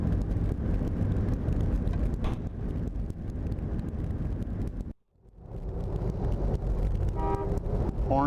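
Horn of a 1941 Cadillac Fleetwood 60 Special sounding briefly over loud wind buffeting and car noise, with a short tonal honk near the end after a sudden drop in the rumble.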